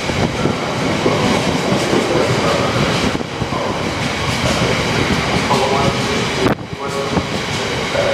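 GBRF Class 66 diesel locomotive 66727 passing through Doncaster station, a loud continuous rumble and rattle of the engine and wagons close by, with a brief drop in the noise near the end.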